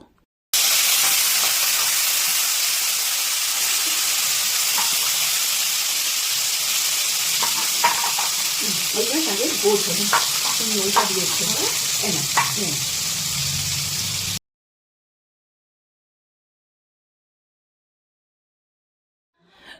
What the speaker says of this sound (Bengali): তো আমরা এই একই পদ্ধতি অবলম্বন করে বাকি তেলটাও কিন্তু ভেজে নেব।